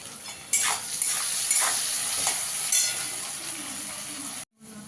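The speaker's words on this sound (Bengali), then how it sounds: "আলুটাকে একটু লাল লাল করে ভেজে নেব" Potatoes seasoned with salt and turmeric sizzle steadily in a pan, a close, continuous frying hiss broken by a few brief scrapes of stirring, with no talk.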